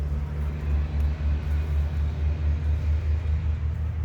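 A steady low rumble of a car going by, with no voices.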